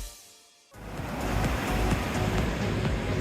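Ocean waves wash onto a sandy seaside beach in a loud, continuous surf roar mixed with wind, starting abruptly after a short quiet moment.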